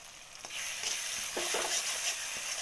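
Chopped tomato being stirred in a hot pan with salt, coriander powder and cumin powder for a Kajal Gauri fish curry, giving a steady close sizzle with a few soft scraping stirs and no talking.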